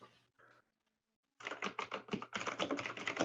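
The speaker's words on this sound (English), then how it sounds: "I really like the way your keyboard sounds" Computer keyboard typing during an online tabletop role-playing session: a couple of short taps, a pause, then a fast, close run of crisp clacking keystrokes.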